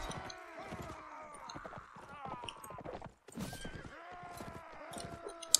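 Horses in the Mount and Blade video game neigh and whinny in long repeated calls over steady clip-clop of hooves, close and fairly loud, with a brief gap midway before more neighing.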